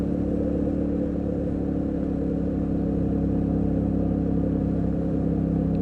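Yamaha Tenere 700 motorcycle braking from 60 mph to a full stop under ABS on a street, its engine holding a steady, loud mid-pitched drone with wind rumble close to the rider for the whole stretch.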